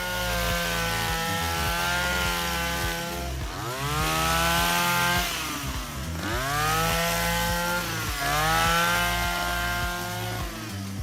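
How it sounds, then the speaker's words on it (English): A handheld lavender harvester runs with a loud, buzzing two-stroke engine whine that rises and falls in pitch as it works through rows of plants in a field, steady throughout with no talking. "This allows the handheld harvester to operate more easily."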